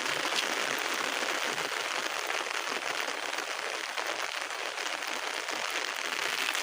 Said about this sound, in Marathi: पाऊस वाढायला सुरुवात झाला इकडे